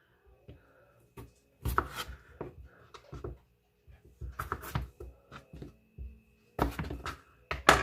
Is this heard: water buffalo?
no